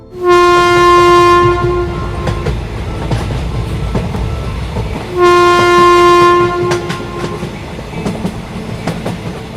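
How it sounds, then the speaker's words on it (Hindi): A passenger train sounds two long, loud horn blasts as it starts to pull away, with rolling wheel and carriage rumble continuing between and after the blasts; no one speaks. "तभी ये ट्रेन शुरू हो जाती है"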